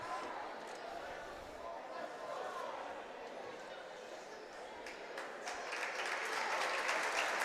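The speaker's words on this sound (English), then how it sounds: "Summertown crowd and Perry County giving Thornton a round of applause" Spectators at a girls' high school basketball game clap in a sustained round of applause, fairly distant and soft, growing a little louder toward the end with crowd chatter mixed in.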